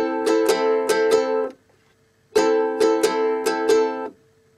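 A ukulele plays an easy strumming pattern for a song, with two bright bursts of quick rhythmic strums separated by a short pause, clear and close.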